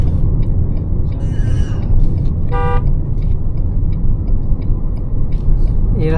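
Toyota Harrier cruising on the N2 highway, a loud continuous road and engine rumble with wind noise, a short horn-like toot partway through, and faint voices underneath.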